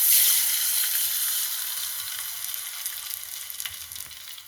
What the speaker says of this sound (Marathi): तर आता शेंगदाण्याच्या आमटीला फोडणी देते मी